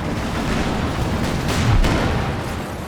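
Tank cannons fire during a Company of Heroes 2 battle between a Cromwell and a Panzer IV, with a dense, loud wash of booming shots, rumble and crackling gunfire and one heavier thump near the middle.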